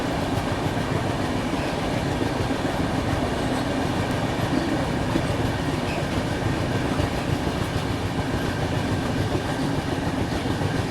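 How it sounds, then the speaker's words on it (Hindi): An Andhra Pradesh Express passenger train runs through Dornakal junction without stopping, a constant loud rumble with rhythmic wheel clatter on the rails, heard from inside a carriage. "अभी हमारी ट्रेन दोरनकल जंक्शन को स्किप कर रही है"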